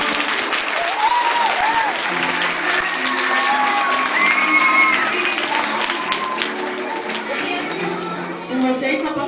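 Sustained applause from an audience at a school fashion show, where a model walks the runway in an outfit made from recycled snack packaging and milk-carton pieces; steady clapping with scattered cheers and whoops mixed in, loud and continuous throughout.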